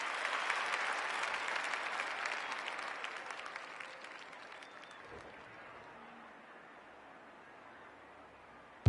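A crowd at a women's Australian rules football match applauds and cheers loudly, then fades to a quieter murmur, with a sharp thump at the very end.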